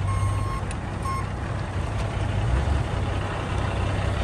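Reversing beeps from a forklift at a truck loading yard, evenly spaced tones sounding fairly faint over a constant low engine hum and background rumble.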